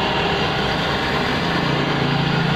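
A 2014 Suzuki APV engine runs after being cleaned out from flood submersion, giving a steady, close idle hum with a rapid even pulse and no change in pace across the short stretch.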